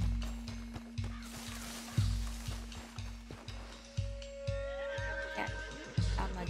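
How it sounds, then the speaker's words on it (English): In Red Dead Redemption 2, a horse whinnies and snorts over regular thumping hoofbeats, with more animal calls rising near the end. "This fucking horse."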